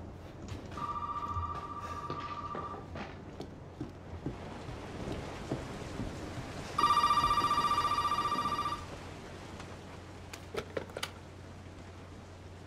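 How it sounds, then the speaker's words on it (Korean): Telephone ringing in the horror game Resident Evil 7, two bursts of a steady electronic ring, the first short and softer, the second louder and longer, over a low droning ambience with scattered thuds. "어 전화 왔다."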